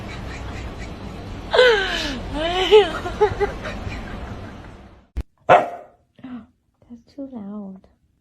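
A dog gives a burst of yelping barks over rising and falling harmonics, then a few sharp separate barks follow after a pause, with background noise throughout.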